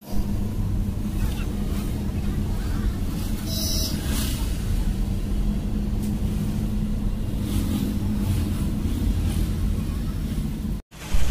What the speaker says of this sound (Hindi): अभी भी हम लोग ट्रैफिक में फंसे हुए हैं यार